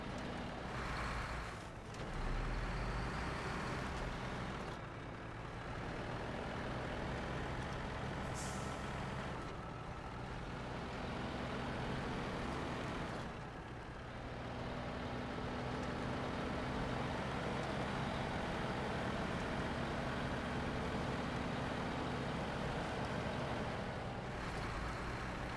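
An off-road truck in the video game SnowRunner driving in four-wheel drive, with a steady loud engine drone and rumble throughout and brief dips and hissing surges, no talk.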